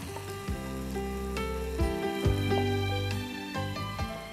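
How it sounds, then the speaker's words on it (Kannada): Food frying in ghee in a pan, a steady close sizzle with occasional scraping stirs and clinks, no talk. "ಚೆನ್ನಾಗಿ ಹುರಿಬೇಕು ತುಪ್ಪದಲ್ಲಿ."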